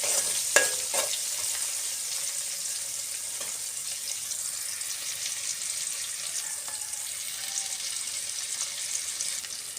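Chopped vegetables and tomato pieces frying in a pan for a puffed-rice breakfast dish, a continuous soft sizzle with occasional light stirring scrapes, close and steady, with no voices.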